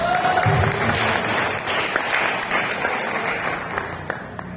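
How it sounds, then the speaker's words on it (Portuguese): Congregation in a church applauding, a steady dense wash of clapping from many hands filling the room for several seconds, loud and sustained throughout. "Se você pode, aplaude a Jesus."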